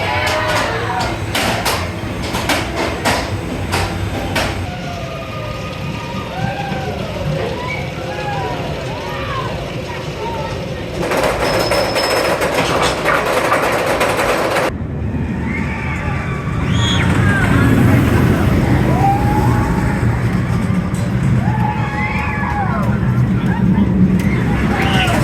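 An RMC roller coaster ride at Six Flags Over Georgia: a loud, steady roar of wheels on track and rushing wind, with riders screaming and shouting throughout, rising and falling over the whole run.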